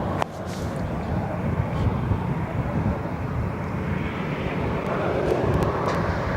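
Small private jet departing Barcelona airport, a steady broad roar of jet engine noise heard from a distance, continuous and fairly even throughout.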